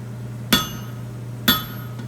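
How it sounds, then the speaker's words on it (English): A hammer strikes hot steel on an anvil while forging wolf-jaw tongs: two sharp, ringing blows about a second apart, close and loud over a steady low hum. "I'm going to find a little sharp edge on my anvil over here."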